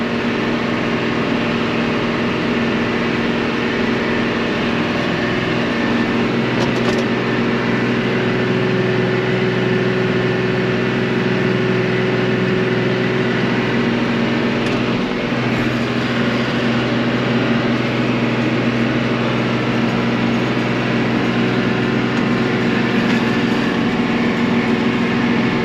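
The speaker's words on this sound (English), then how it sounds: "just the engine on the tractor" A tractor engine drones loudly and steadily throughout while spreading fertilizer on a farm, a constant close rumble with a slight hum and no voices.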